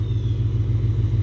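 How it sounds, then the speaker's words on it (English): Ford Mustang with a remote-controlled valved exhaust, valves open, giving a steady deep rumbling drone at idle that stays loud and even throughout, with no voices. "This is the best exhaust I have ever experienced on any car"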